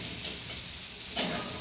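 Sabudana khichdi with potato and chilli being stirred in a pan, a soft continuous frying hiss with a single light scrape near the end, quiet and close.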